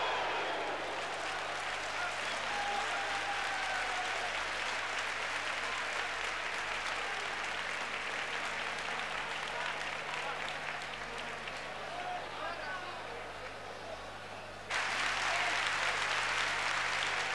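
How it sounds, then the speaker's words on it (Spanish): A football stadium crowd applauds in a sustained ovation for a substituted player at a 1989–90 Real Madrid versus Málaga league match, steady and dense throughout with a sharp surge near the end, under a commentator's voice. "el público despidió con esa ovación a Gordillo"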